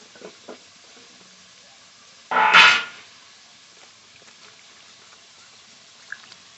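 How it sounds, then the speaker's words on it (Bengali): Okra being rinsed in water, a single loud splashing burst of about half a second standing alone in an otherwise quiet stretch, with a couple of faint taps before it. "ভেন্ডি ভালো করে ধুয়ে নিয়েছি"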